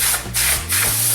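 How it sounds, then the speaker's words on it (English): A compressed-air dust remover sprays inside the case of a Nintendo NES console. It gives loud, steady hissing blasts broken by two short pauses over a low electrical hum. "Just spray it in there"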